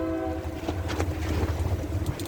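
A passing train near an intersection sounds its air horn, a loud sustained horn tone over the rumble and clatter of rail cars rolling by close at hand.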